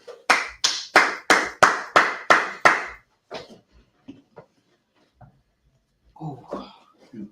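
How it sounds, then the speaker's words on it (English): About eight loud, evenly spaced claps from a group clapping hands together in unison, followed by a few scattered faint taps and some indistinct voices near the end. "we're gonna clap it up"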